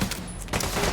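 Gunfire in the shooter game The Division 2, a loud, dense burst of shots filling the whole second, close and alone.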